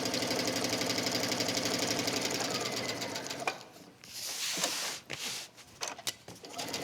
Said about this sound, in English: the canvas is having absolutely no problem going through the machine